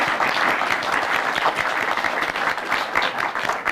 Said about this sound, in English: Round of applause for our author.